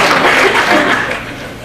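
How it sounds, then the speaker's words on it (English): Applause from the audience at a cannabis legalization open forum on I-502 in Seattle, a dense wash of clapping with a few chuckles, fading slightly toward the end. "The applause is for you guys, I'm sure."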